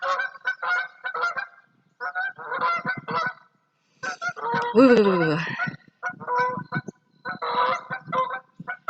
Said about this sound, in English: I think geese are territorial. That's why they're always honking at each other.